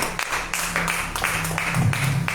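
A church congregation applauds during a Spanish-language sermon: a short stretch of scattered, moderately loud clapping with a low hum underneath.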